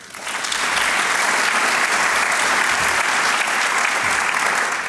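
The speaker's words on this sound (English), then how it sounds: "Get the applause in" Audience applause at an Illinois gubernatorial candidates forum swells after a brief start into a loud, dense, sustained roar of clapping from a large crowd. It holds steady to the end with no talking over it.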